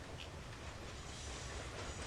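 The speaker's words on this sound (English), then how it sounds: "Let's build trains." A train in the video game Locomotion runs along its track in a steady low rumble with soft clickety-clack, quiet and unbroken, with no voices over it.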